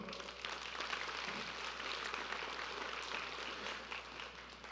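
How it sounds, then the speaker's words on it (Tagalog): A church congregation claps steadily and densely for several seconds, a continuous wash of hand claps with no voices standing out. "Pumalakpak nga tayo sa Panginoon"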